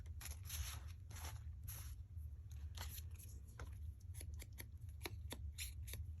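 Scissors snip the edges of a paper card in a steady run of quiet, close cuts over a low background hum, with no one speaking.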